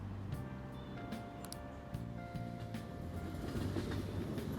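Train ride ambience in the video game Persona 5 Royal: a steady rumbling rail carriage with faint rhythmic clicks and a low hum throughout, moderately loud and unbroken, with no talking.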